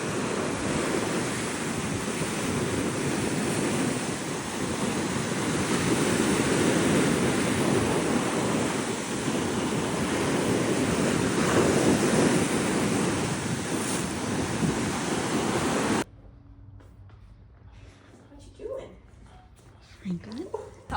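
Ocean waves break on the shore in a loud, continuous roar of surf and wind buffeting the microphone. The roar cuts off abruptly near the end, leaving quieter background with a voice speaking.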